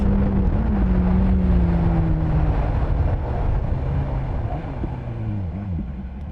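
BMW S1000R motorcycle fitted with an Ohlins adjustable steering damper, riding with a steady engine drone and heavy wind rush that slowly fades as the bike slows.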